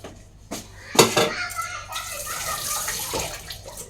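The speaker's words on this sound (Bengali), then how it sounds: "ডিমগুলো ধুয়ে নেব" Peeled boiled eggs being washed in water in a home kitchen, with splashing and sloshing in bursts, a few sharp clinks of a bowl, and a voice briefly in the background.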